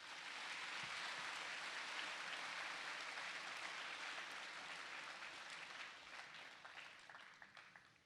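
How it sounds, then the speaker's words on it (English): Sustained applause from a school assembly audience honoring a wind symphony at a Veterans Day event, a dense wash of many hands clapping that holds steady for several seconds before thinning into scattered claps near the end. "Please, one more round of applause for the Wind Symphony."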